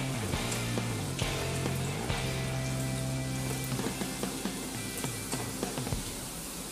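Veg manchurian balls deep frying in oil over a raised gas flame, a dense, continuous sizzle with scattered crackles and pops throughout.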